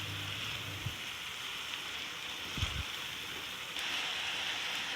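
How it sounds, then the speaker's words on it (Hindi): Spices roasting in a hot pan for a chicken bun paratha, giving a soft, steady sizzle and faint crackle throughout, with a couple of low clatters from a utensil. "थोड़ा सा भून लूँगी मसालों को"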